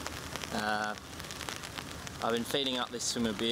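Steady rain patters down at a lake swim during a carp fishing session, a soft continuous hiss beneath someone talking nearby.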